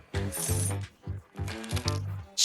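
Chocolate coins spill and tumble in a cartoonish food-battle scene, giving a run of bright, jingly bursts in quick succession that end with a sharp clink.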